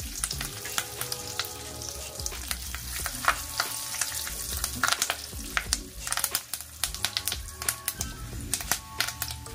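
Curry leaves and roasted gram fry in oil with a close, crackling sizzle, broken by frequent sharp clicks and scrapes as they are stirred in the pan, with no talking.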